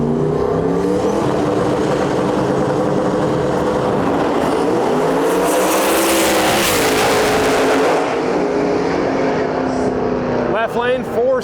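A 4th gen Camaro and an SN95 Mustang make an Ultra Street qualifying drag pass at a Lights Out event. Both engines roar loud and steady, with the pitch sweeping as they accelerate down the strip, and an announcer talks over the noise throughout.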